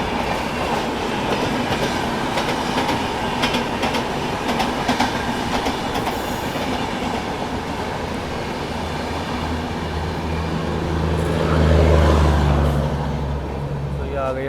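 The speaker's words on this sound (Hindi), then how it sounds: "अच्छे रफ्तार में कोई तो ट्रेन आ रही है भाई सामने से" The Ranchi Rajdhani Express approaches at speed, a steady rumbling roar of rolling wheels and rail clatter that swells louder toward the end as the train draws near, with voices talking faintly underneath.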